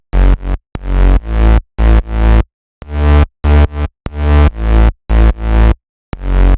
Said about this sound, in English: this is a really simple bass line, but you can hear it grooves well with the drums.